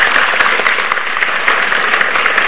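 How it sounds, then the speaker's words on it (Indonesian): Studio audience applause on a health talk show as two doctors are welcomed, a dense, loud, continuous wash of clapping from many hands with no voices over it. "Beri tepuk tangan"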